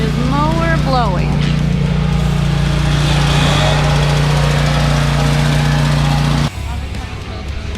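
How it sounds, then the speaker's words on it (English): A lawn mower engine drones loudly and steadily close by during mowing, with a voice briefly heard over it before the engine note drops near the end. "This is him on his mower blowing."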